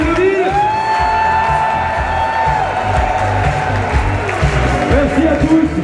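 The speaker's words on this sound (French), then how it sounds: "Un tonnerre d'applaudissements pour Ludovic!" A large crowd at a French street rally cheers, whoops and claps loudly and continuously, with shouting and an amplified voice mixed into the din.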